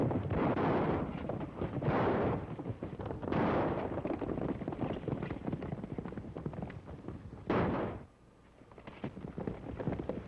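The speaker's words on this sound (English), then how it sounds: "They must be shooting at..." Gunfire from a 1934 western film serial, heard as a series of loud, dense bursts and rumbling volleys over a continuous noisy background, with a sharp cutoff near the end.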